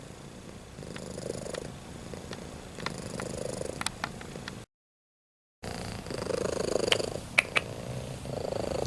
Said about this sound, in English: Look at this little baby cat,